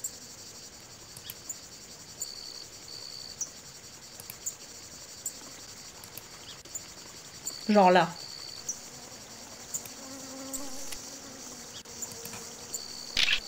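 Mosquitoes in the video game Forestia give a thin, steady, high-pitched insect drone that runs the whole time with faint ticks, while a person speaks briefly partway through.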